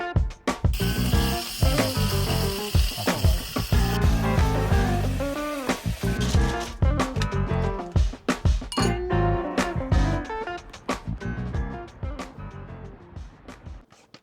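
Dishes are washed in the small sink of an RV van, with clinks and clatters of dishware, running water and scattered knocks, close and fairly loud over a busy, tonal background.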